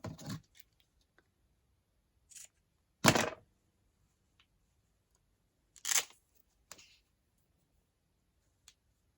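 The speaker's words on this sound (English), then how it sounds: "So I might continue cutting." Scissors cutting paper hinges for a craft storage book, a few short separate snips spaced seconds apart, close and fairly quiet, with near silence between them.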